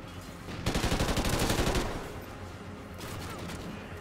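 A burst of rapid automatic fire from the SA-805 rifle in Call of Duty Ghosts, loud and sustained for over a second, then fading into quieter background battle noise and a softer later volley.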